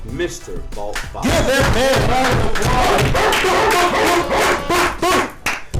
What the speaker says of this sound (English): man a round of applause